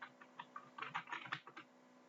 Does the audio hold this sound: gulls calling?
no